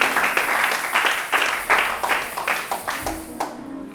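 A church congregation claps in applause during a Congolese pastor's sermon, a dense, fairly loud run of clapping that swells in rhythmic bursts, almost like chanting in time, before fading away near the end.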